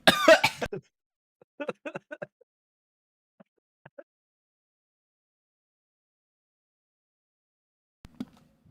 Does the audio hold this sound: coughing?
yes